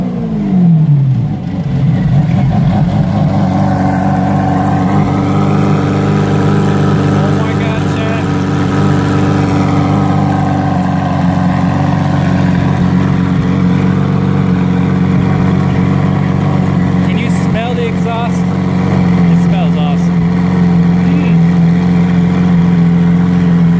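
A Lamborghini Aventador with an aftermarket exhaust revs loudly at first, then settles into a steady, deep engine drone that runs for over twenty seconds, close and continuous.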